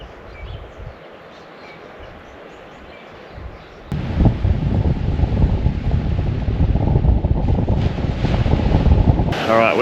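Wind buffeting at Boat Harbour beach in Tasmania, a rough rumbling roar that is faint at first, then swells loud and steady against the microphone.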